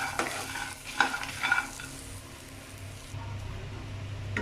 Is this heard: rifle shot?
no